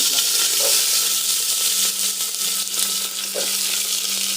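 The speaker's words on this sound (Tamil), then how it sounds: "வெங்காயம் போட்டு வதக்கிக்கலாம்." Onions fry in hot oil for a chicken gravy, a dense, even sizzle with a low hum and a couple of faint stirring touches, close by.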